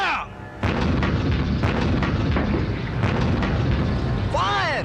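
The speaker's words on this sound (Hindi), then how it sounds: "All stations, fire!" Artillery guns fire in loud, rolling booms across a battle scene, with voices shouting underneath the continuous roar of the barrage.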